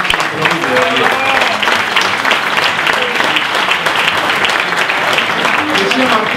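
Loud, sustained applause from a seated audience at a political group's meeting in Argentina, many hands clapping evenly and densely throughout without any break.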